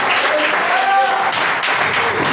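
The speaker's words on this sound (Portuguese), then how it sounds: "eu peço as palmas da igreja" Church congregation applauding together at an evening service, a steady dense wash of clapping throughout with a voice talking over it.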